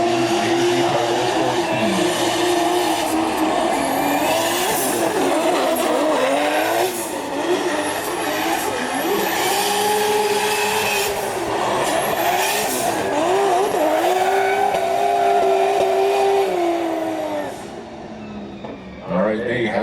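A Nissan S14.5 drift car's engine screams at high revs with long, wavering tire squeals, loud and continuous, easing off near the end, at a pro-am drift competition; a voice talks faintly underneath.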